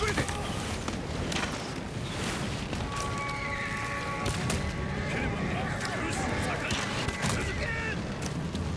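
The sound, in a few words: horses neighing and hooves in video game Ghost of Tsushima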